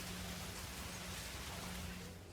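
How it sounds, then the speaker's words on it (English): Dense hissing roar of an apocalyptic elemental storm spell in Path of Exile 2, a continuous rain-like wash with a low hum beneath, fading slightly at the close. "use it with all three to generate a storm that is truly apocalyptic."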